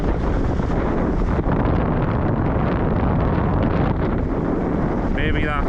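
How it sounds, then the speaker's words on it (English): Strong wind blows across a beach at Cambois, a constant loud, close roar with heavy microphone buffeting that barely varies over the whole stretch. "the wind's picked up a bit"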